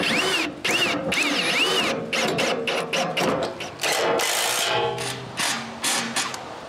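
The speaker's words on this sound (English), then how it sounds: "we just need to screw and bolt both fenders to the sides" A power drill drives screws and bolts fastening fenders onto the sides of a trailer, loud and close, in repeated short whirring bursts with pauses, ratcheting and pitch changes between them.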